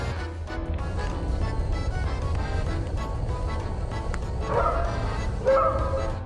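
A guard dog barks and yips in short bursts, with whimpering notes, close by over a low background hum.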